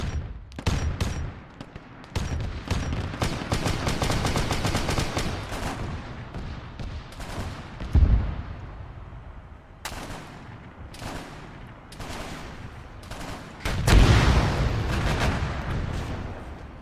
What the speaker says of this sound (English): He is shooting the heck out of Disco Bob back there.